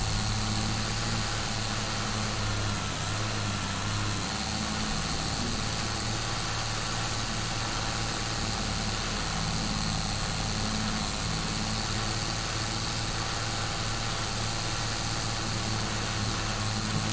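A Swraj 855 tractor engine in Farming Simulator 22, stuck in mud, gives a steady, loud mid-pitched drone with an idling rumble throughout, continuous and alone with no talking.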